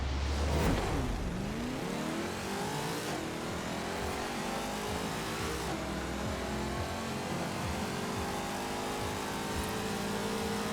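A modded car in the Forza Horizon 4 racing game launches down a drag strip with a manual clutch, its engine revving hard and climbing through rapid gear shifts, loud and continuous with no talking.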